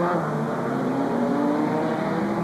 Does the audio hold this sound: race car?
yes